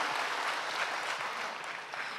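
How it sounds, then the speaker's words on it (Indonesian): Dense, sustained applause from a church congregation fills the short moment with steady, close clapping and almost no talk. "Berikan tepuk tangan untuk teman-teman sekalian"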